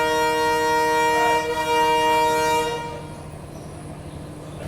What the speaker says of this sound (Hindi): चलिए फाइनली यहाँ से डिपार्चर का संकेत हो गया।